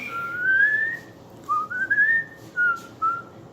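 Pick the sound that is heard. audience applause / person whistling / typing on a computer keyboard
person whistling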